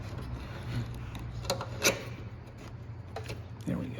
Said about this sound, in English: Take your flathead and get it in here. And pry this out.